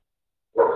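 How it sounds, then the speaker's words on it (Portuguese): A single short dog bark breaks out after a stretch of silence, mid-loud and fairly close, with no talk around it. "Olha o cachorro."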